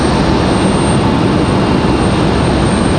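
An Airbus A319 jet rolling out at Raleigh-Durham airport: a loud, steady, broadband engine roar that stays constant throughout, with no voices.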